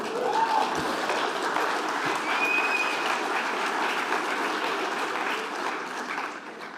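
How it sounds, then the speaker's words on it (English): Steady, sustained applause from a large audience at an honorary doctorate conferment ceremony, a dense even wash of clapping that fills the whole stretch and tapers slightly at the end, with no talk over it. "you applauded at the wrong part of the sentence"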